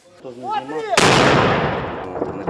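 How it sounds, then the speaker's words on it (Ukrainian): A voice speaks briefly before a sudden loud artillery shell impact booms close by in the city of Bakhmut, its rumble decaying over the next second and a half. "Ось ви чуєте самі, що прильот по місту недалеко від нас"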